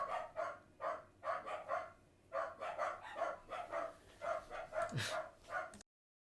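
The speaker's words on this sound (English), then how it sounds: "So if you can hear any dogs barking in the background" Dogs bark in the background at a quiet, moderate distance: a string of repeated yips and barks in short bursts over several seconds, set before a Leicester City versus Sheffield United football match.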